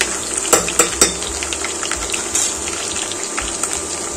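Whole spices fry gently in oil on low heat, a close, steady crackling sizzle with a few quick taps near the start, and no one speaking.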